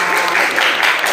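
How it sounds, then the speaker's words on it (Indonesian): Schoolchildren clapping together in a classroom for a classmate, a short, dense burst of close applause. "Tepuk tangan untuk Ira, anak-anak."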